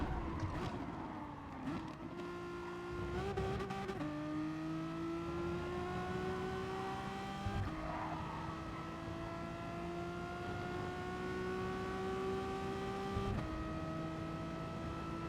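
A Bugatti Veyron's engine drones steadily in Gran Turismo Sport, its pitch climbing slowly through long gears on a straight with a few brief shifts, continuous and prominent throughout.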